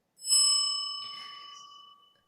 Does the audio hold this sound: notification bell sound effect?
yes